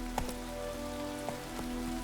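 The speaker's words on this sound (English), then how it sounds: "Let it rain." Rain in The Witcher 3 video game, a soft continuous patter with a few faint scattered drops over a low steady background.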